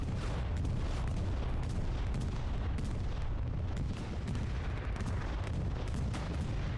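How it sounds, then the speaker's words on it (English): Explosions from a bombing run in the Hell Let Loose video game: a continuous loud rumble of heavy, overlapping blasts and booms lasting several seconds with no talk. "Bombing run."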